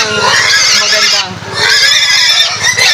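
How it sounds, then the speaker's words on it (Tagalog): Pigs on a farm squeal and grunt loudly and close by, a harsh, continuous chorus with a short dip in the middle before rising again. "Ayan o, yung mga baboy ko."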